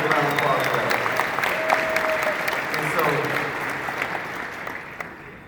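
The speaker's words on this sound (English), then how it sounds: "I think y'all give it a round of applause for that." Audience applause from a crowd at a talk, steady broadband clapping that holds for the whole stretch and slowly eases toward the end.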